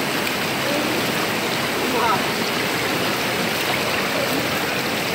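Swollen river after heavy rains rushing steadily with broadband turbulent roar, loud and continuous throughout, with faint voices buried beneath the water noise.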